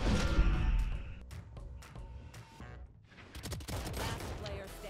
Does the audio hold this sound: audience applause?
no